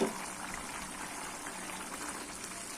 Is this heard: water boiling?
yes